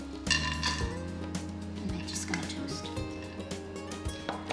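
Hazelnuts dropped into a hot pan while pan-searing hamour fish give a quick scatter of small clinks and rattles against the metal, then a steady low sizzle.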